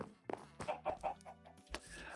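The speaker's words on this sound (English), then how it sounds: "Where did our chickens go? We have one." Minecraft chicken on a game farm giving a short run of clucks, several quick close, clear calls in a row against a quiet background.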